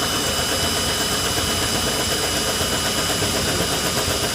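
A 3D printed differential gear train spins at around 950 RPM, giving a loud, steady, dense whir and rattle that runs unbroken and alone.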